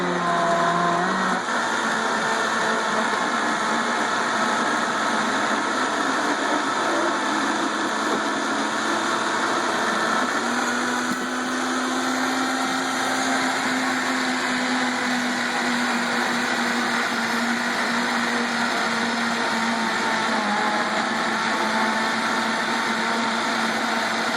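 A Vitamix blender runs loud and steady for the whole stretch while a tamper pushes the food down onto the blade. The motor pitch shifts slightly partway through, with no talking.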